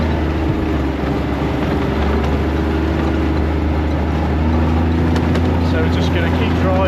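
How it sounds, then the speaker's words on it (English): A vehicle drives across stubble fields during a pheasant dogging outing, its engine a constant loud low rumble close by that runs the whole time, with a person talking over it. "So we're just going to keep driving."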